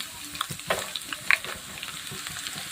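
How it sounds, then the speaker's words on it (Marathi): Cumin seeds and garlic frying in oil in a pan, a close, continuous sizzle with light stirring scrapes and small pops. "जिरं सुद्धा छान फ्राय करून घ्यायचे तेलामध्ये"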